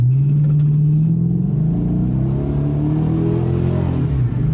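A 2018 Dodge Charger police car's exhaust revs up close, the engine note climbing and rumbling steadily through a mid-pitched drone before easing off near the end.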